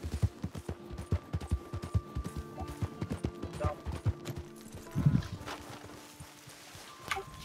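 Horse hooves clop in a video game, a quick run of distinct, fairly close hoofbeats that slows and thins out, with a brief burst of clatter near the end.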